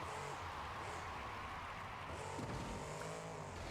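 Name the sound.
monster truck with Ford customizable engine in BeamNG.drive video game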